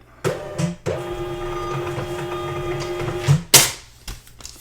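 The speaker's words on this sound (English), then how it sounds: "It's going to go to my printer, my arc scan." An Arc Scan label printer runs off 4x6 shipping labels, giving a loud, close mechanical whir with clicks and clunks at the start and end of each feed.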